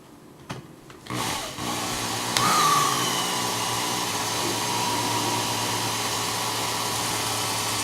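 A Work Sharp Ken Onion belt grinder starts after a couple of clicks, spinning up into a loud, steady motorized whine that holds evenly close by, with a brief rising squeal as the belt engages.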